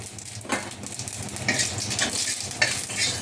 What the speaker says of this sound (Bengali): এই মাছ ভাজা তেলেই ফোড়নে দিয়ে দেব রাঁধুনি।